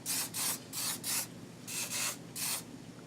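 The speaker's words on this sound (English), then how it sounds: "So then I'm going to use a medium hold spray." Ion humidity-resistant medium hold hair spray hissing from an aerosol can in five or six short bursts of varied length, close and fairly loud, with no talking.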